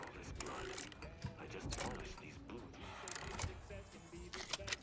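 Lockpicking with a mag pick in a video game, a faint run of small clicking, ratcheting mechanical ticks with scraping bursts, under quiet voices.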